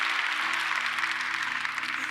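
A church congregation at a Korean Sunday service applauds in a dense, steady wash of clapping that carries on for a couple of seconds, fairly quiet and a little distant.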